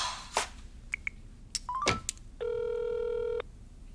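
A telephone rings in a household, a single sustained electronic ring tone lasting about a second, preceded by clicks, beeps and short rattles at close range, with no talk over it.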